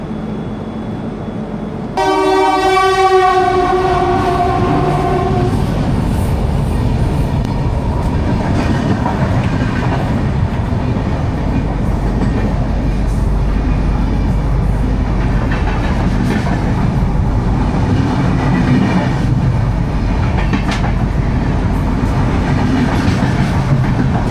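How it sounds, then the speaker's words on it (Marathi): A train horn sounds loudly, then a long steady roar of a passing train on the Konkan Railway with rumbling wheels and rhythmic clatter, close and continuous. "कोणती ट्रेन गेली माहीत नाही मित्रांनो"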